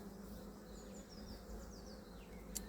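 Honey bees buzz steadily around a hive frame being slowly lifted out of a beehive, a continuous low drone with faint high chirps over it and no talk.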